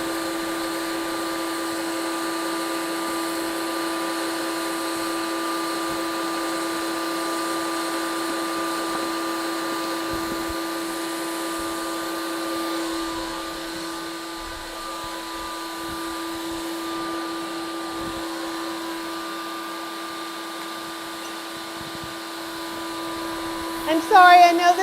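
Ninja Creami Deluxe ice cream machine processing a pint, a steady loud whirring motor drone that runs on for about twenty-five seconds, with a few light clicks and a brief clatter near the end.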